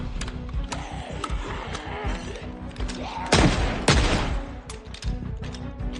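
Shotgun blasts in Project Zomboid, a few heavy reports standing out among a busy, dense game soundscape of zombie groans and clatter, with one loud burst midway and another shortly after.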